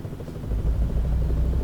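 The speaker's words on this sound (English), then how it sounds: "There's a helicopter above." A helicopter flies overhead in American Truck Simulator, heard as a steady low rumbling drone that swells slightly after the start and holds at a moderate level.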